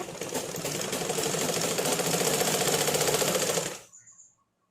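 A sewing machine runs steadily, stitching a double-folded hem along a lungi, a dense even whirring that carries for about four seconds before it slows and stops, with no talking.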